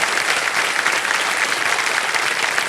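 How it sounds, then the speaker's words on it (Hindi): Studio audience on a television quiz show breaks into steady, dense applause for a winning contestant, loud and continuous with no talk on top. "तालियां बज जाए इनके लिए"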